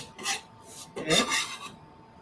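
A spoon scraping and rasping around a pot of tomato soup as it is stirred, in two short bursts of rubbing and clinking close by, with no talk.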